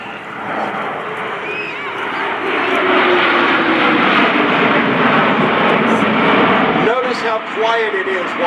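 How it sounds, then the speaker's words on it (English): A C-17 Globemaster III jet makes a high-speed pass at an airshow, its loud engine roar building and holding steady as it goes by, while an announcer speaks over the public address throughout. "the crew will perform a high-speed pass with the aircraft capable of accelerating to over 350 miles per hour"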